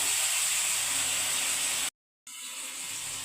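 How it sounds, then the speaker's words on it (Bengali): Potatoes and pointed gourd frying lightly in oil, a steady close hiss that cuts out briefly near the middle, then resumes slightly softer. "এই পটল আলুটা তেলে হালকা আমি কষে দিচ্ছি"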